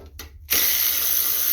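A power tool ratchets loose the muffler on a small engine from a JCPenney front-tine tiller, starting after a short quiet gap and then running as a loud, steady, close whir.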